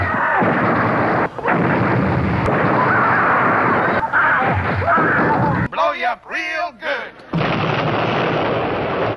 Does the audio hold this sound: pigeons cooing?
no